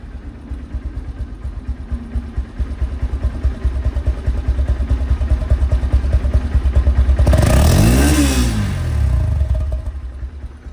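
A close 2021 Honda X-Blade motorcycle idles with a rapid, lumpy thrum, then one strong rev climbs and drops away before the idle resumes.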